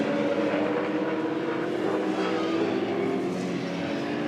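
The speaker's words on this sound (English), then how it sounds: "Stephen Johnson in the First Rock Home Loans Falcon rejoins the circuit" Ford Falcon V8 supercar circling the Darwin circuit in a 2006 race, a continuous loud engine drone with a slowly shifting pitch and no commentary over it.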